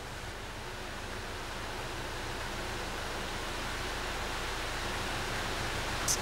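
Water rushes steadily through an opened sluice paddle filling a lock on the Leeds Liverpool Canal, a continuous broadband roar that holds at an even, loud level throughout with no voices.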